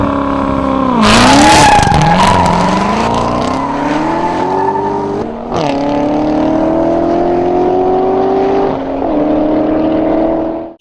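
A supercharged Corvette C6 or C7 pushrod V8 roars loudly and close, revving hard through rising gear pulls with brief lifts between shifts, alone without talk.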